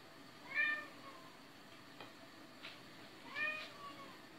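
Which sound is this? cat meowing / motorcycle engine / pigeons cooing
cat meowing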